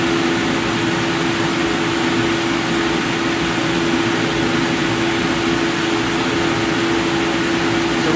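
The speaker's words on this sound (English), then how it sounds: "Now the screws are rotating." A new double screw machine and housing in a run-in, turning at 30% speed: a steady, unbroken mechanical whir with a constant hum, loud and close, and no talking.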